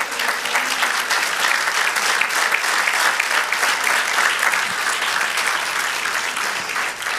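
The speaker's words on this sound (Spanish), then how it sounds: "Dale aplauso al Señor." A church congregation applauds the Lord during a pastor's sermon, producing sustained, loud, even clapping that carries on without a break and without speech.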